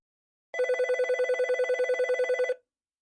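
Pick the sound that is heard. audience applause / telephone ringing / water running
telephone ringing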